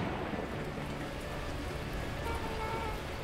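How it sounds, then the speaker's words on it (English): Torrential rain pours down in the video game Beacon Pines as a dense, continuous downpour that stays steady from start to finish. "At that moment, the heavens opened up, unleashing torrential rain."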